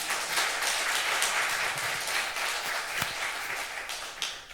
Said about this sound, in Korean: 다시 한번 박수 보내드리겠습니다.